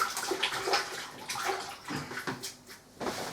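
Water splashes and runs steadily while a sheet is rinsed during an Artex ceiling repair, close and fairly quiet, with no talking.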